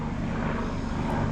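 Steady, dense rotor and engine drone from a police helicopter passing overhead, loud and continuous with no break, and no talking over it.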